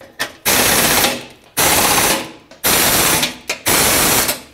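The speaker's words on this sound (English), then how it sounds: "I have my air gun on the lowest setting, that way it doesn't over tighten them" A pneumatic impact wrench set to its lowest setting rattles bolts tight in four loud, sustained bursts of about a second each, with brief short taps and pauses between them.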